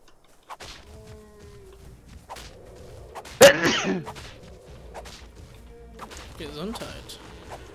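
A sudden sneeze bursts out once in the middle of a stretch of quiet, scattered talk while a player games in Ark: Survival Evolved, with soft game sounds around it.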